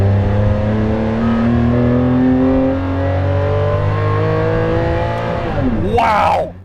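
A Maserati MC12 supercar engine revs loudly and close by, a deep sustained engine roar that shifts pitch and ends in a sharp burst of revs before cutting off.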